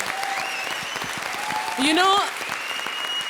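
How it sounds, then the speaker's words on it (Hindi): Studio audience applauding at a TV comedy show, a steady broadband clatter of many hands running throughout, with a brief spoken word and a voice rising over it midway. "तो प्लीज़ सिर्फ उसके लिए भारती और सिद्धार्थ के लिए जोरदार तालियां।"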